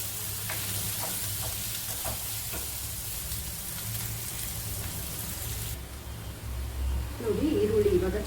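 Onions sizzle and fry steadily in hot oil with salt in a pan for Karnataka-style jhunka, a continuous close crackle with a few clinks of stirring.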